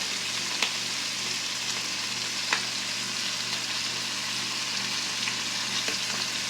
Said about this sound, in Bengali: বেশি ভাজবো না চিংড়ি মাছটা কারণ চিংড়ি মাছ বেশি ভাজলে শক্ত হয়ে যায়